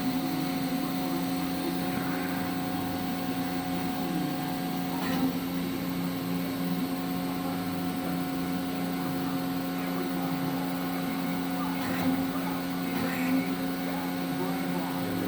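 A Mori Seiki MT 2500SZ multitasking lathe runs with its B-axis swinging and spindle moving, giving a continuous steady machine hum with a whining tonal drone and faint voices beneath it.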